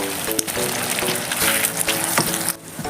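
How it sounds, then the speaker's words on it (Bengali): Egg being stirred into a sizzling tomato chicken tarka, with a steady hiss of frying and repeated scraping and clinking from a spatula in the pan. "ডিমটা আমরা দেওয়ার পর এরকমভাবে নাড়াচাড়া করে নিতে হবে, যাতে সমস্ত তরকায় ডিমটা থাকে"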